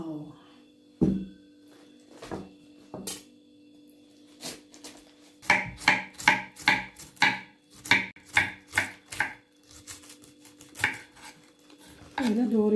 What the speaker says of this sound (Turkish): Böyle doğrayacağım dostlar ama bıçaklarımızı biraz daha keskinleştirelim.